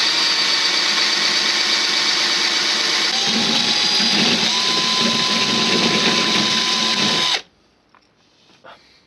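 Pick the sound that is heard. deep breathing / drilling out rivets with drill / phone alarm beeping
drilling out rivets with drill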